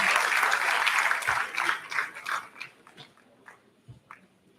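A crowd at a polytechnic convocation gives a round of applause, dense clapping at first that thins out and fades to scattered claps.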